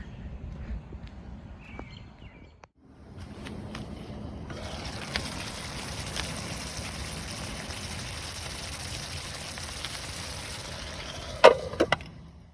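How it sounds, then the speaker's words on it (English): Steady rain patters outside at Natchez Trace State Park, Mississippi, after a brief quiet moment, a continuous hiss with occasional drips and knocks close by. "It's raining again."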